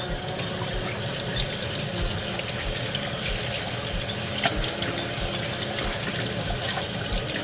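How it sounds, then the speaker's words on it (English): Cold tap water runs steadily from a kitchen faucet into a sink while raw chicken pieces are washed for Jamaican chicken soup, a continuous close splashing hiss with small clinks and no talking. "I'm going to wash each piece properly under cold running water."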